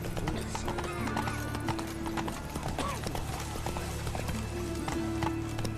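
Hooves of Roach, the horse in The Witcher 3 video game, clip-clop in a steady galloping rhythm that runs throughout, close and fairly loud over a layered game soundscape with low music and ambient hum.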